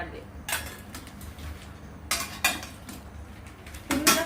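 Hard lunch containers clatter and knock together in a few sharp bursts, close by, with quieter handling noise between them.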